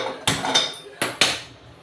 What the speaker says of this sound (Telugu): కళాయి పెట్టుకోవాలి గ్యాస్ వెలిగిద్దాం